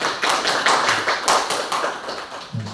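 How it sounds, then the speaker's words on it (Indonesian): An audience at a school training session claps in uneven bursts, a close, loud patter of hands that swells and fades before a brief low voice at the end. "Dan tepuk tangan untuk kita semua ya."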